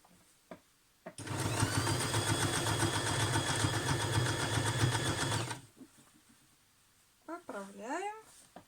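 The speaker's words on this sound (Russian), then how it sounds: "И шьем." A sewing machine stitches old trousers or jeans in one steady, loud run of about four and a half seconds, followed by brief rustling and a short burst of voice.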